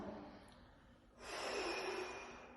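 A quick, forceful breath drawn in through the nose, a loud airy rush that swells and slowly fades against faint room noise.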